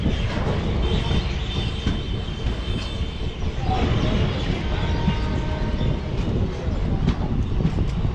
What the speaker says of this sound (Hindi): 5:45 पे हमारी ट्रेन यहाँ से चल पड़ी है